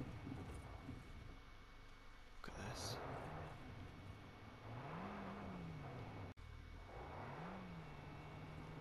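Car engine in the video game Far Cry 5, a low droning hum that rises and falls in pitch as the vehicle accelerates, heard under soft, quiet talk throughout.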